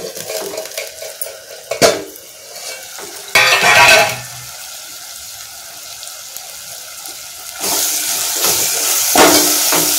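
Ingredients for prawn biryani fry in a pan, with bursts of loud sizzling, clinks and scrapes of a utensil against the metal, then a sustained hiss of frying near the end.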